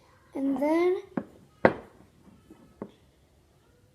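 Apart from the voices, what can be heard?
young child babbling in the background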